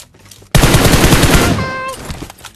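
Rapid automatic gunfire in PUBG Mobile bursts in loud and close after half a second of quiet, a dense stream of shots lasting over a second before tapering into ringing metallic tones.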